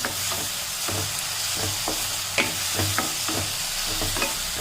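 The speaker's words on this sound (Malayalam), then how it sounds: "ഇതിനകത്തേക്ക് നമ്മൾ അരിഞ്ഞു വെച്ച തക്കാളി ഇട്ട് കൊടുക്കാം." Chopped tomatoes hitting a hot pan for fried chicken biryani, a steady close sizzle broken by regular scraping stirs and light clinks, with no talk.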